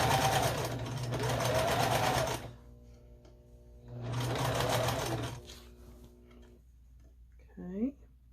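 A sewing machine stitches a scrappy string quilt in two long, steady runs separated by a pause, with quiet ticking and handling sounds between the bursts.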